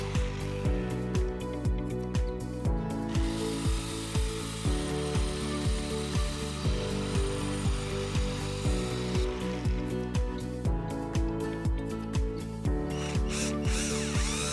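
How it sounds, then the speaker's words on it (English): A jigsaw cuts through a metal whiskey barrel hoop, with a loud, continuous, rhythmically pulsing rasp and whine from nearby, with no talk. "Here I'm cutting the metal whiskey barrel hoop in half with a jigsaw."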